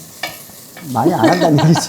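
Stir-frying in a pan with a soft sizzle and scraping of a utensil against the pan, close and continuous under a person talking.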